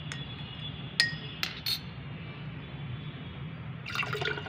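Liquid organic fertilizer is strained into four glasses of plain water, with a few sharp glassy clinks early on and then a soft trickling pour toward the end over a low steady hum.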